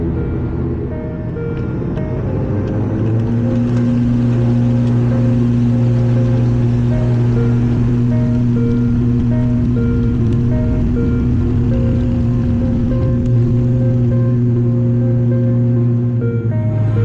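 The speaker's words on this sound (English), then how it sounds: "Now get ready for a very cloudy takeoff." Aurigny Air Services airliner engines during takeoff from the cabin, a loud steady droning hum with sustained tonal whine that rises slightly as power builds, continuous with no talking.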